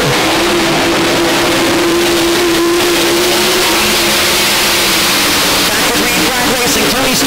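World of Outlaws sprint cars at State Fair Speedway roar loudly as the field accelerates back to green on a restart, a dense engine drone rising in pitch, with a commentator talking over it.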